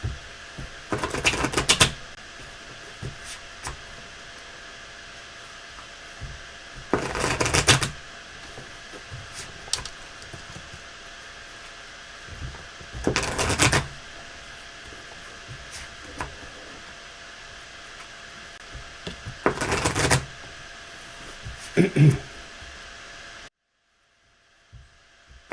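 Four separate bursts of a deck of cards being shuffled for a tabletop card game, each a brisk riffling flutter a few seconds apart, with quiet pauses between.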